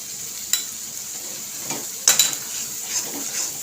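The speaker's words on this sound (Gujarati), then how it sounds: "બધું ફ્રાય કરી દેવાનું" Turmeric, salt and garam masala frying in a pan for restaurant-style matar paneer, a steady sizzle with a few sharp stirring scrapes and clinks of a spoon against the pan.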